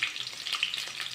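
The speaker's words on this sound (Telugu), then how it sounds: "కరివేపాకు వేసి వేయించుకోవాలి." Ginger pieces, curry leaves and green and dried chilies fry in hot ghee for a pongal tempering, a close crackling sizzle with small pops and stirring scrapes, no voices.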